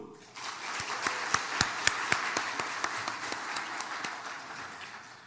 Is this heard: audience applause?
yes